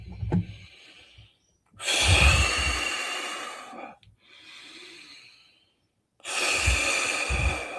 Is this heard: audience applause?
no